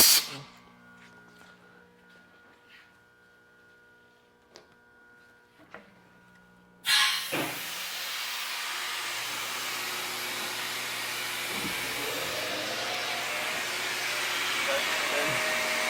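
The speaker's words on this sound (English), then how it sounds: "To run this, we got the compressor." An air compressor in a small manufacturing workshop kicks on abruptly after some quiet clicks and rattles, then runs with a loud, steady hiss and motor drone that continues unbroken to the end.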